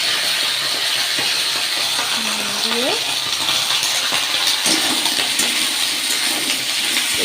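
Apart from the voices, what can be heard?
beans and potatoes sizzling in a hot wok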